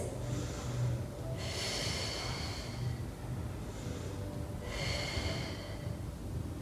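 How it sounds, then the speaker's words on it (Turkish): Heavy rhythmic breaths during a leg exercise, two long inhale-exhale cycles with a rushing airy quality, close to the listener against a low steady background hum. "Nefes al, ver, dinlen."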